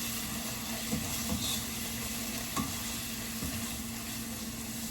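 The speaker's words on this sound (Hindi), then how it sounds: "I'm just gonna mix it till कि थोड़ा सा ऑयल ऊपर आ जाए और वो मसाला मिक्स हो जाए" Biryani masala and onions are stirred in hot oil, giving a steady, fairly quiet sizzle with a few soft scrapes of the spoon and a constant low hum beneath.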